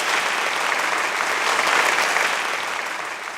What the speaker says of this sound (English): please join me in a heartfelt applause to all of them for this outstanding performance